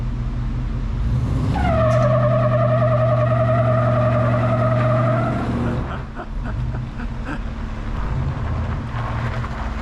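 A car's wheels spin up on a test run after an axle swap: a loud, close whining engine and drivetrain tone rises and holds for about four seconds, then drops away to a lower rumble.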